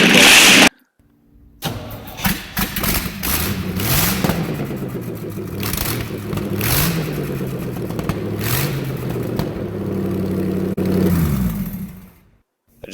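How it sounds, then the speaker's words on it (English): A newly fitted engine in a home-built buggy fires up for its first start, cranking and catching into a loud rough idle with revs rising and falling, then cutting off near the end. "this is the first start with that engine"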